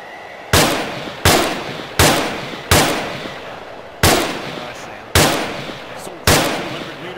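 Gunfire in the video game The Thing, seven loud, sharp shots at an irregular pace. Each crack is followed by a short decaying tail, with no talking over them.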